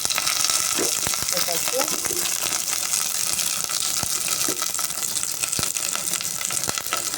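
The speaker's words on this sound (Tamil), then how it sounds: "தாளிச்சிட்டு காமிக்கிறேன் நான் கட் பண்ணி வச்சுருந்தேன் வெங்காயம் அதுக்கப்புறம் கருவேப்பிலை" Onion and curry leaves are tempered in hot oil, giving a steady loud sizzle and crackle with scattered sharp pops and some stirring scrapes throughout, close by, under no clear talk.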